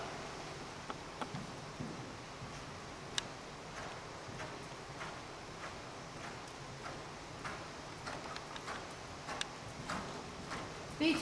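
Horse loping in an arena during a western dressage test, soft rhythmic hoofbeats in an even three-beat pattern, faint and somewhat distant against a quiet background.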